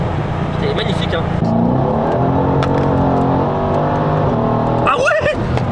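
A tuned car making over 700 hp and 1150 Nm pulls hard in third gear, a steady engine drone rising in pitch under close, continuous talk from people inside the car.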